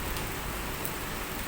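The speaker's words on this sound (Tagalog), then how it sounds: "makikita ang ano, patak ng ulan" Steady rain pours down during a typhoon, a dense, even hiss of raindrops on surfaces with no talk, constant and close throughout.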